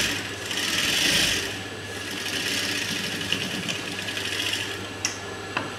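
Sewing machine stitching blouse pieces together, a loud steady mechanical whir that eases to a lower hum, with a couple of sharp clicks near the end and no speech.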